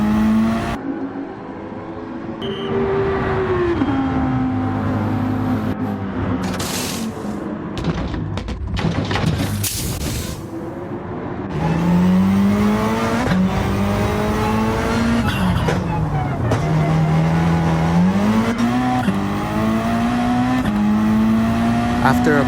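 Race cars in a Gran Turismo video game race around a pit stop, engines droning and shifting pitch with revving and tire noise, while a person talks over the continuous car sounds.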